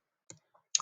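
A few light plastic clicks of calculator buttons being pressed to enter numbers, quiet and close, spaced irregularly over under a second.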